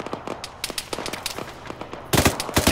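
Rapid bursts of video game gunfire crack in quick succession, with sharp repeated shots growing louder and denser toward the end, with no voices over them.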